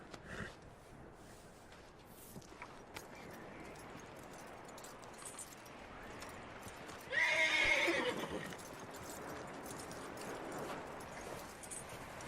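A horse whinnies loudly once amid quiet ambient sounds in the video game Red Dead Redemption 2, with hooves shuffling and soft clopping before and after.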